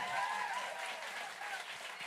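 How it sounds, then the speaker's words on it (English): Applause from a live audience on a cruise, a faint, steady patter of many hands clapping together at a distance for a couple of seconds. "You can applaud that if you're live in the room"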